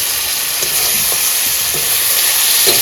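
A steady loud sizzle of fish frying in a pan during riverside cooking in the Sundarbans, with faint stirring taps running under the hiss and no talk.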